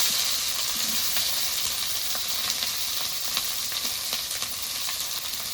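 Onion and capsicum fry in a pan for a Maggi dish, giving a steady, close hiss and crackle throughout with a few faint stirring clicks and no talking.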